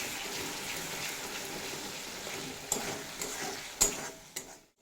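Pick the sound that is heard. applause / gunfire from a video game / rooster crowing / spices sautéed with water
spices sautéed with water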